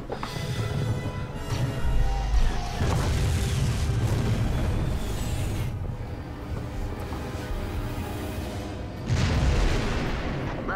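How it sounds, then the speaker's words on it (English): Explosions from the Star Wars: Jedi Starfighter video game, loud deep booms and blasts swelling over a dense, continuous rumble of battle, with a fresh heavy burst near the end. "we're seeing a massive explosion down here"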